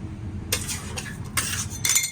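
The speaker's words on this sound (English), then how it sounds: "And I'm going to mix that up here for just a minute." Gel coloring being mixed into warm candy with a utensil, a few soft scraping, clinking strokes close up in quiet surroundings with no talking.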